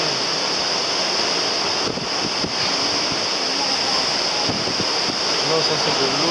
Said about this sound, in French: Non, ça c'est de l'eau avec le vent qui vole là.